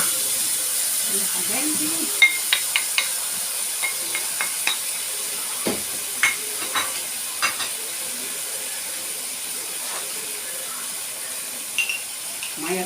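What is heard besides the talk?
tomatoes added to frying moussaka in the pan, sizzling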